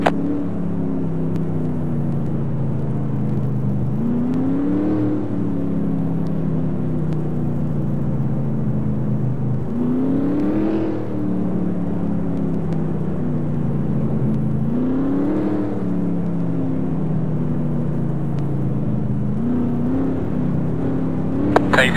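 NASCAR stock cars rolling behind the pace car at the Food City 500: a continuous engine rumble and whir that swells into rising revs every few seconds, then settles back to a steady drone.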